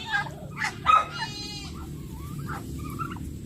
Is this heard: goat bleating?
yes